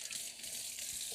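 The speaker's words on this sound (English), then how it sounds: "I'm gonna wash this Swiss chard." Tap water runs steadily into a kitchen sink while Swiss chard is rinsed, a continuous close rushing and splashing with no voices.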